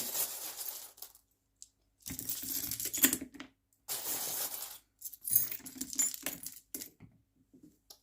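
Small divination charms are drawn and shaken, giving bursts of metallic jangling and clinking across several seconds, separated by brief silences, close and moderately loud with no talking.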